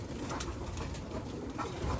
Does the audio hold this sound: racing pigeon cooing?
yes